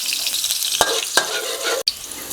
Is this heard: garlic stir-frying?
yes